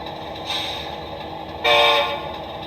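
A model train's two-chime horn, played from a Blunami sound decoder fitted in a Williams ALCO PA locomotive, sounds in two sustained blasts, the second louder, over a steady low background hum.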